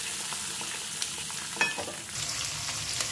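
Cumin, curry leaves and garlic sautéing in hot oil for a spicy onion-garlic kuzhambu, a dense continuous sizzle with a few soft stirring knocks, close and fairly loud.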